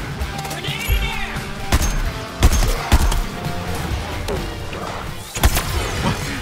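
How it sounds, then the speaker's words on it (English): Explosions, smashes and gunfire burst out in a chaotic firefight in Suicide Squad: Kill the Justice League, with a grenade detonation among several loud impacts over a busy game score and effects. "Grenade in air."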